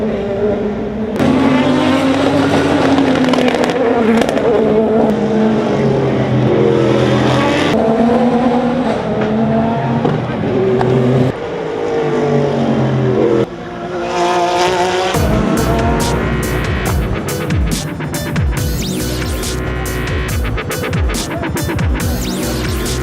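Race cars at the 2018 Chevrolet Detroit Belle Isle Grand Prix roar past steadily, engines rising and falling through gear changes, with tire squeal and skidding and a rapid crackling burst near the end, loud throughout.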